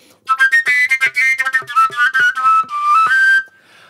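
A breathy overtone flute plays a lively, bright melody in short articulated notes, loud and close, with no talking.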